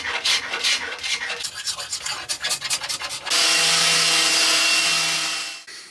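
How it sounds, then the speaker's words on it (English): Abrasive sanding stripping the old finish from a 1950s oak chair: rapid rhythmic rubbing strokes for about three seconds, then a steady continuous power-sander whine that cuts off near the end, close and loud, with no talking. "everything's sanded there now, all the finish is off pretty much"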